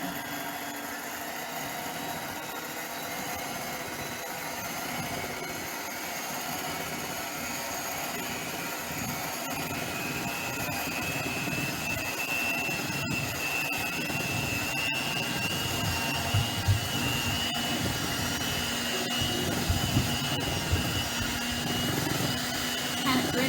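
An electric blender runs steadily with a loud, continuous motor whir while cream is slowly poured in for homemade ice cream, the drone holding throughout with a few small bumps near the end.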